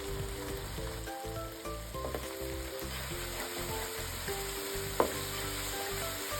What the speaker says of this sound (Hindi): अच्छी तरह से मिक्स करते हैं।